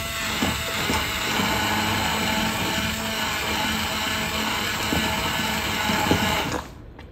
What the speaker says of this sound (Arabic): الان اجيب الهاند بلندر واخلطها